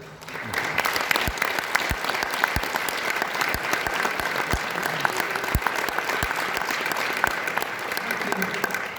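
An audience at a leadership training seminar in Poland bursts into sustained applause for invited guests, a dense wash of clapping with a few sharp individual claps standing out, continuing steadily.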